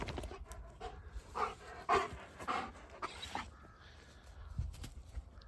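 An excited dog pants hard and rapidly close by while waiting to go for a walk on its leash. The breaths come in quick rhythmic bursts with a few louder gasps, and the surroundings are otherwise quiet.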